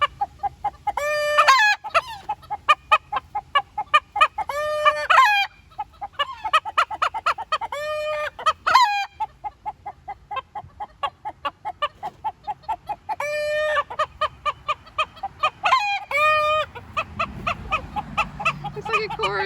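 Hens in a backyard flock of buff-colored birds cluck in bursts and trill loudly, rising and falling in a near, overlapping chorus with short pauses between calls.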